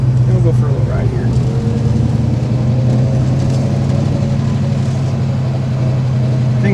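A 1965 Ford Mustang GT K-code coupe drives along with a steady, low engine drone and road rumble from inside the car. The sound holds constant throughout with no clear revving.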